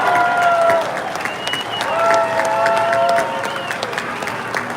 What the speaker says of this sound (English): a round of applause here for Alicia Trost